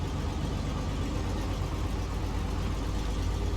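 Truck engine idling in the Snowrunner video game, Scandinavia map, a steady low rumbling drone, loud and close, with no voices.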